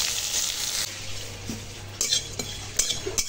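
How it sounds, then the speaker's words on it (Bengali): Pointed gourd (potol) frying in a pan in a home kitchen: a steady, close sizzle, punctuated by several metallic clinks and scrapes of a spatula stirring against the pan. "এখন পটলটা ভেজে নিচ্ছি।"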